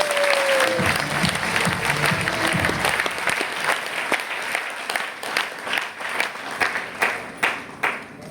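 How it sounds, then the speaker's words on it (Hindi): An audience at a team gathering bursts into loud applause, a dense roar of clapping that thins toward the end into a few separate, rhythmic claps. "आप सब लोग एक बार बीसी सर के लिए पहले तो जोरदार तालियां बजाएं।"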